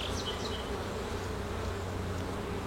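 Honeybees hum steadily around an open hive full of capped brood frames, a close, continuous drone with faint higher whines drifting over it and no voices.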